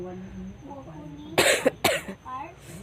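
A person with a cold gives two sharp, close coughs in quick succession after quiet speech, followed by more talking.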